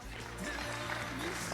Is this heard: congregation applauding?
yes